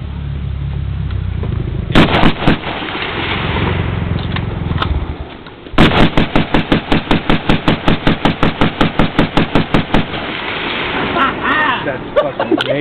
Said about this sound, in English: barrel's too tight, so it'll jam up every couple shots